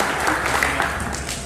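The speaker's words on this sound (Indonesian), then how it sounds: "Tepuk tangan kita semua." Audience applause at an organization's board report meeting, a brief burst of dense clapping that fades within about a second and a half.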